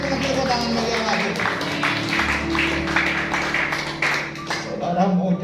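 Church congregation clapping during a sermon, a dense steady patter of many hands filling the room, continuous and fairly loud, with a voice speaking over it.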